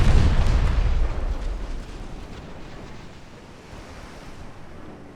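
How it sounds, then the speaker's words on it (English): Torpedo hits and shell explosions at sea in the naval warship game Ultimate Admiral Dreadnoughts: a loud, deep rumbling blast right at the start that slowly fades into a long, low roar of surf-like noise, with no talking. "So my 2 torpedoes hit them, though."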